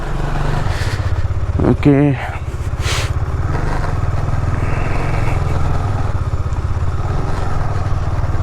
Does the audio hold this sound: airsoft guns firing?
no